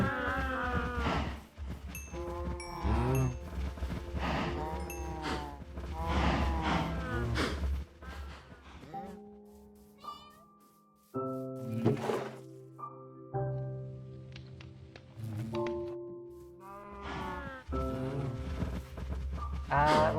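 Cows mooing in Minecraft, several drawn-out, tonal game moos in the second half, with a player talking earlier and between the calls.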